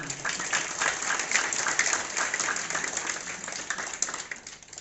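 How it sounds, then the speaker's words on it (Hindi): Audience clapping for two women at a Brahma Kumaris Mahashivratri function in Multan Nagar, a steady, moderately loud wash of many hands that keeps going for the whole stretch. "इनके लिए ताली बजा दी"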